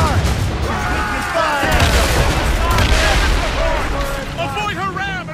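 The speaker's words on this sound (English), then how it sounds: "They are firing a volley!" A ship's cannon volley in the Assassin's Creed Rogue naval battle, heard as dense rumbling booms under shouting crew voices and whistling effects, with continuous loud battle noise throughout.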